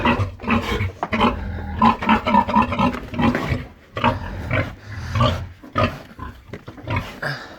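Pigs on a farm at evening feeding time, a dense, continuous chorus of grunts and squeals close by, loud and busy throughout with no talking.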